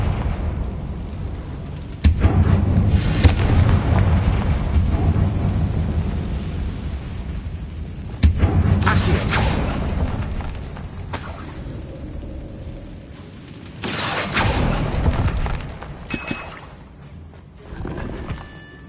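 Confringo fire blast spell cast in Hogwarts Legacy, heard as several loud, roaring explosive bursts with crackling tails, each swelling and fading across the span, with no talk.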